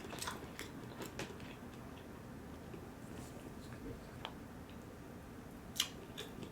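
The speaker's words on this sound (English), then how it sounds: "I bit right into that bone." Faint crunching and snapping come from teeth biting into and chewing a bone during a Jamaican meal, soft close-up clicks spread unevenly over a quiet room background.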